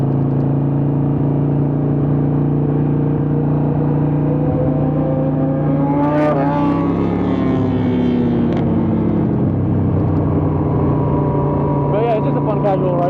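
Motorcycles on a group morning ride, including a Kawasaki ZX10R, a ZX6R and a Harley-Davidson 1200 Nightster, rumble loudly and continuously, with engine pitch swelling and shifting as the bikes accelerate together on the road.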